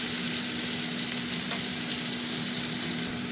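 Softened onion and tomato sizzle and fry in a pan with a dense, even hiss that stays steady throughout. The sound is close and unbroken, with no talking.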